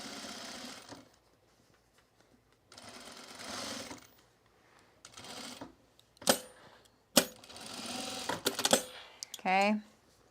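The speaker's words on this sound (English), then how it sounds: "now we're going to sew" A sewing machine runs in short intermittent bursts while sewing jeans, with clicks and mechanical clatter between runs, close by, and people talking over and between the stitching.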